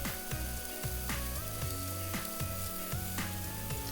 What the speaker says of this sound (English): we're just going to cook this onion out till it turns soft